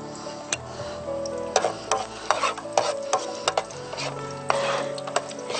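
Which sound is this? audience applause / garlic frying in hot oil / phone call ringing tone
garlic frying in hot oil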